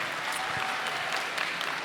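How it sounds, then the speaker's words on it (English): An audience in a main session at the 2017 Momentum Youth Conference claps in a brief, even burst of dense applause with no voices over it. "And you're clapping that he called me a liar?"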